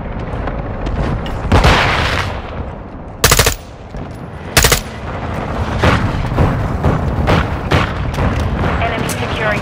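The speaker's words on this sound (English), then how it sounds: "Our mortar strike is inbound." Mortar strike explosions and heavy gunfire in a Call of Duty: Modern Warfare II multiplayer match, loud dense booms and bursts crowding the whole stretch, with a few sharp blasts standing out and game voice callouts mixed in.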